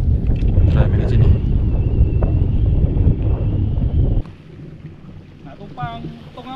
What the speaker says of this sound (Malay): Susah main sebab angin tengah ada ni, tengah kuat ni kan.